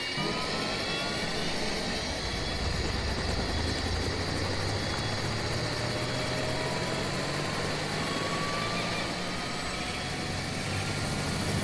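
Helicopter in the video game Anaconda 3, a continuous loud rotor and engine drone that holds steady throughout with a faint rising whine, no voices.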